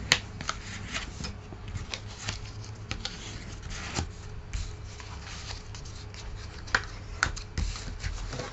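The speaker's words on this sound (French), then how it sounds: "Après, on fait les plis. On marque les plis." Sheets of paper being creased and folded by hand to mark every fold for a wallet-style envelope box, giving a close, steady rustle with sharp crisp snaps scattered throughout, no talking.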